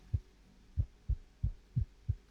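A steady heartbeat sound effect, six low thumping beats in paired lub-dub rhythm, close and alone with no voices.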